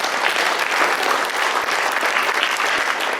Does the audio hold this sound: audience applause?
yes